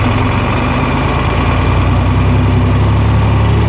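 A John Deere 4010 tractor with a power-loss fault runs nearby, its heavy diesel engine giving a loud, steady low rumble that builds slightly, with no talking.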